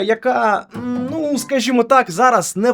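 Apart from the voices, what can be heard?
No everyday noises stand out.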